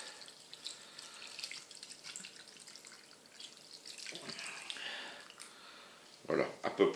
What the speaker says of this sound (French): Et nous allons mouiller avec de l'eau chaude.